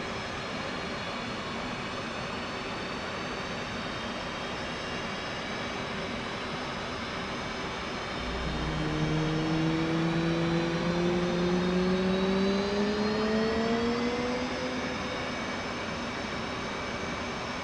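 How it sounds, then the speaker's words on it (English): An F-18 jet engine spins up in a flight simulator game, a steady engine whine joined midway by rising tones that swell and climb for several seconds before settling, with no talking. "This will add fuel to the engine and start the igniters."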